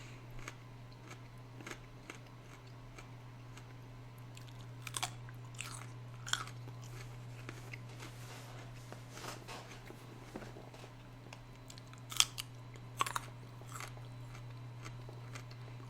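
Someone eats crunchy snacks up close, with scattered sharp bites and crunches over a low, steady background hum.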